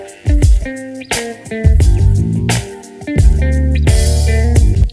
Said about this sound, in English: here's the sound of the guitar before we add the wah pedal